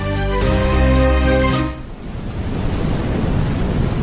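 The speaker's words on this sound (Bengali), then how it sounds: "বাইরে মুষলধারে বৃষ্টি পড়ছে" Heavy rain pours as a loud, steady hiss with a low thunder rumble, coming in after a sustained musical tone fades out, as a sound effect in a horror audio story.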